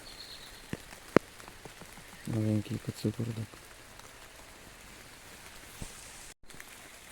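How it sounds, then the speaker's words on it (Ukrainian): Rain falling in a spring forest, a steady patter with scattered sharper drips on leaves and surfaces, continuing softly beneath a man's brief speech. "Дощить вже так знатно."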